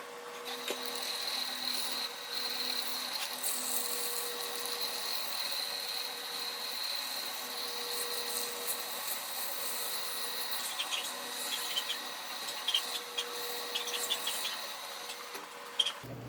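A power sander works a resin finish through successive sandpaper grits, giving a steady, even droning whir that runs continuously at moderate loudness, with no talk.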